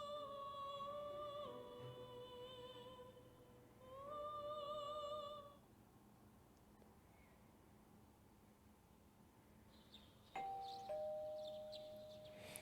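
A two-tone doorbell chime from the video game Persona 4 Golden rings twice, once at the start and again a few seconds later, bright and clear over a soft ambient background, with a different short tone near the end.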